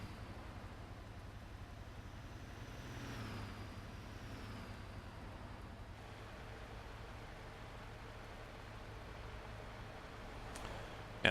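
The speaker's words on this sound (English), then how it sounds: "closer so I can hear this truck. Well, it's a garbage truck." Garbage truck in Euro Truck Simulator 2 drones with a low, steady engine note, quiet and continuous, with a slight pitch sweep early on and a brief knock at the very end.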